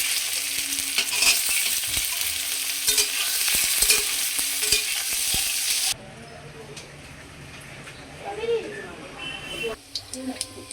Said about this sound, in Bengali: সেদ্ধ করা আলু, এটাও হালকা করে, তেল তো আছেই, এটা দিয়ে ভেজে নেবো হালকা করে